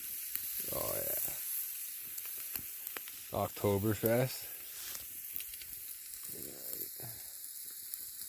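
Pork chop from a butcher sizzling over an open campfire at a woodland fort, a steady broadband fry hiss running throughout beneath intermittent male speech.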